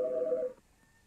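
Telephone keypad tones, a short electronic beep sequence lasting about half a second before cutting off into near silence.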